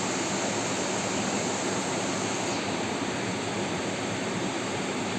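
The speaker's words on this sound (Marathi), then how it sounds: "पाऊस जाऊ दे बाबा एकदाचा" Rain falls steadily on a village stream during crab catching, making a dense, unbroken hiss of roughly constant loudness throughout, with no voices.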